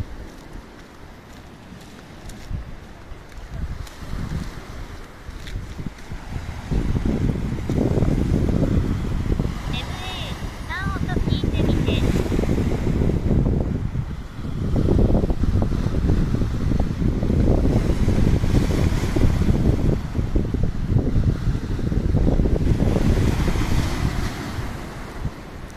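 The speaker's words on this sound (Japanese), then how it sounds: "波が引っ張っていくときにガラガラガラガラって。" Waves surging and pulling back over a stony beach, the retreating water dragging the stones with a rattling, grinding wash; loud, close surges roll in repeatedly with wind buffeting the microphone.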